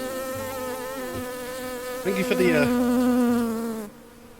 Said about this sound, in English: Stu has summoned a bee!